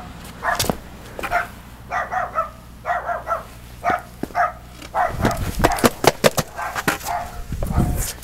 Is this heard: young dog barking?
yes